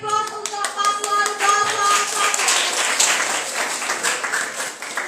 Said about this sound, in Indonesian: Oke, kita beri aplaus untuk paslon